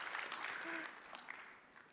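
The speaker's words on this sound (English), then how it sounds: "Can you guys give me a big applause as well?" Applause from a keynote audience, a soft wash of clapping that stays fairly faint and slowly fades, with a brief voice-like tone rising partway through.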